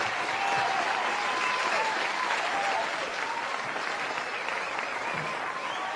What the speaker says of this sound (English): And I give you a round of applause to